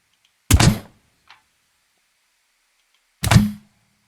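Two sharp, solid impact thunks from a pistol shot striking objects in the building game Scrap Mechanic, spaced about three seconds apart with near-silence between them and a faint click in the gap.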